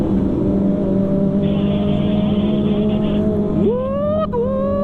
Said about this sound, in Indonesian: Sumpah gacor banget knalpotnya, ampun Windara